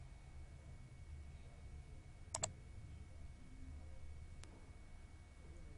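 Two sharp mouse clicks on software dialog buttons, a double click near the middle and a single click later, faint against a steady low hum with no talking.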